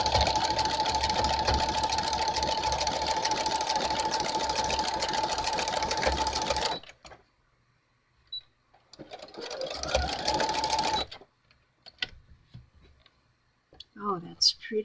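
A domestic sewing machine stitching lace onto fabric, a steady fast mechanical whir and clatter running for several seconds, stopping, then a shorter second run, with a person talking briefly in the gaps.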